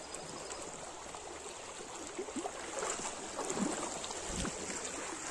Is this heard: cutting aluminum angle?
no